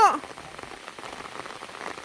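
Rain patters steadily during a thunderstorm in rural fields, a continuous dense hiss of drops hitting surfaces, briefly preceded by a short voice at the start.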